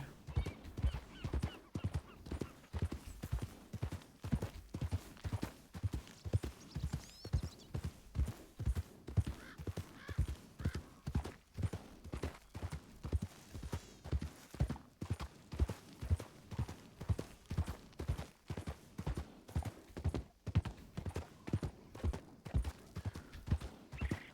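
Steady, rhythmic clip-clop of horse hooves continues throughout in Red Dead Redemption 2, with a whinny mixed in; the hoofbeats are close and evenly paced.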